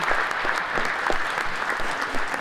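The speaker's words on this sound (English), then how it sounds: "Please give Julie a round of applause." Audience applause at a town hall meeting, a steady dense clapping from a crowd filling the room, loud and continuous from start to finish with no voices above it.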